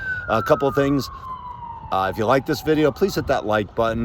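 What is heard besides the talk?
sirens in the background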